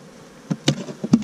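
Italian honey bees lifting off an opened hive during an inspection, with a few short, close buzzing bursts as individual bees fly up past the listener.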